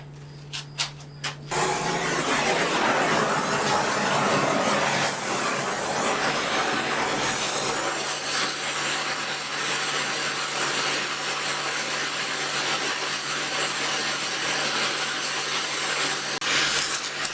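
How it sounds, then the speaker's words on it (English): A torch roars steadily while heating an iron piece for forging medieval andirons, a loud, close, broad hissing rush sustained without a break after a few brief clicks at the start, with no speech. "use the torch to assist me in heating this piece"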